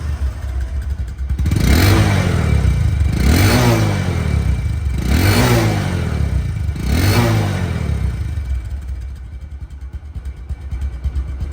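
A 2020 Bajaj Discover 125cc motorcycle, started by kick with a flat battery, idles close by with a steady engine drone. It is revved four times in a row, each a rising then falling roar, before settling back to a smooth idle.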